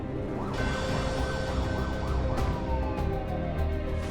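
An ambulance siren wails in a rapid rising-and-falling pattern, heard from inside the vehicle over a constant rumbling road noise, fairly steady in level throughout.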